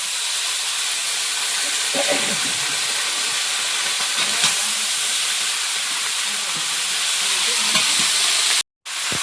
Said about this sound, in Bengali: এবারে এর মধ্যে ডাঁটা আর আলুটা দেবো